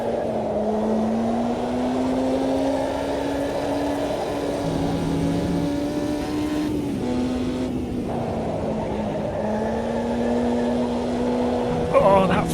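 Racing car engine in the Automobilista 2 sim, droning steadily at partial throttle with a sustained tone that rises and dips as the revs shift, over continuous road noise, with a voice talking over it.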